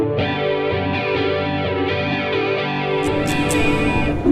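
An electric guitar played through Guitar Rig 2 rings out a sustained vintage chord with a swirling chorus effect, shimmering continuously with no talk.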